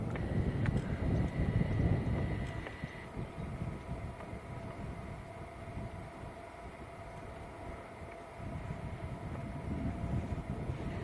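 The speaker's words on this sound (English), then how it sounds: "2 aircraft taxiing out now as well" Two airliners, an Aer Lingus A330 and a Turkish A321, taxiing at Manchester Airport, giving a steady low rumble of jet engines at a distance with a brief higher whine early on, no talking.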